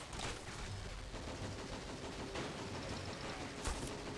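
Gunfire in the World War II strategy game Men of War: Assault Squad, with dense, rapid crackling shots and distant booms forming a continuous faint firefight backdrop.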